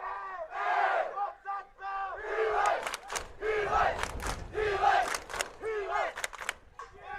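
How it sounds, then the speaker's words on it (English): Crowd at a girls high school state soccer quarterfinal cheering and shouting loudly in sustained waves, with some sharp claps and bursts throughout. "He and the crowd going crazy here"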